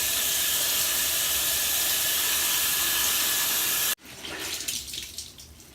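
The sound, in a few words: water dripping while hand-wringing cloth diapers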